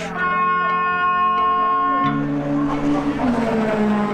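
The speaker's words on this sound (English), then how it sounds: "as the red lights go out, the race gets underway" Race cars accelerating together off the start of a circuit race, engines droning loud and sustained with rising and shifting pitch as the pack pulls away, tire noise mixed in, under crowd or commentary ambience.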